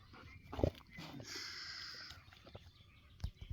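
A dog on a farm gives a few short sharp barks or snorts close by, with a softer whimpering whine in the middle and quiet outdoor background between the sounds.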